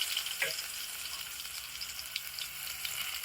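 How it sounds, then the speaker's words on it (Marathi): Cumin seeds and garlic sizzle in very hot oil for sambar, a steady close frying hiss with a brief spatter near the start, heard alone without talk. "तेल खूप तापले टाकले जिरे हे टाकला लसूण"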